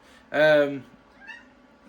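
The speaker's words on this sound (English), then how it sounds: "despite that interruption from my cat" A pet cat gives one loud, close meow lasting about half a second. A much fainter, short mew follows a moment later in an otherwise quiet room.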